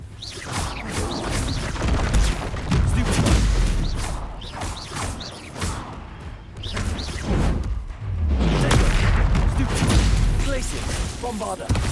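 Bombarda blasting spells fired in combat in the video game Hogwarts Legacy, repeated booming explosions and crashing impacts amid battle whooshes, loud and dense throughout, with voices speaking in between.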